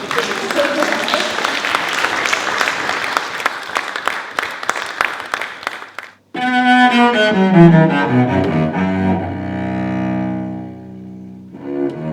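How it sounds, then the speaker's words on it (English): An audience at a poetry gathering claps for about six seconds, dense and close, before the applause stops abruptly and piano-like music begins. "give yourselves a round of applause for being here"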